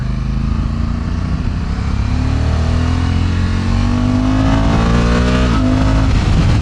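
A 2024 Honda Africa Twin Adventure Sports motorcycle with a DCT gearbox accelerates hard. The loud, close engine note climbs steadily in pitch, with a brief dip and rise near the end as it shifts and pulls again.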